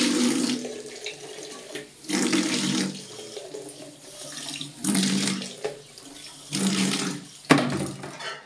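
Water from a tap runs in repeated bursts while feet and hands are washed, each gush of a second or two splashing close by, separated by quieter gaps, with no talking.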